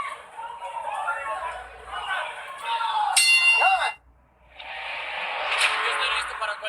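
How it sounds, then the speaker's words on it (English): A boxing round bell clangs once with a bright ringing tone amid loud arena crowd chatter, followed by a brief lull and then renewed crowd noise. "Listen for the bell."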